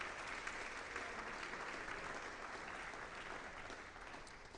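Steady, continuous audience applause at a club's singles closed championship finals, a dense wash of many hands clapping at even loudness from start to finish, heard at a slight distance with no voices on top.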